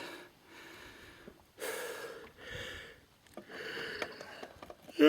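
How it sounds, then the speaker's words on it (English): A person yawns and breathes heavily outdoors on a hike, with several long drawn-out breaths and sighs separated by brief pauses, close and fairly quiet. "Yeah, and I'm yawning"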